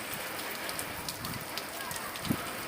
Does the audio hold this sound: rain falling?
yes